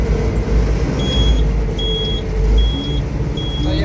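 Short electronic beeps repeat at a steady interval, four times, over the constant low rumble of a running John Deere 952 combine harvester engine.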